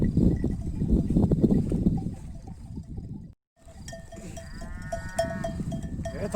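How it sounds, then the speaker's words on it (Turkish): A flock of sheep being herded up a hillside: scuffling hooves and movement fill the first half, then after a brief gap several distinct bleats ring out nearby. "Koyunu oraya yönlendireceğiz."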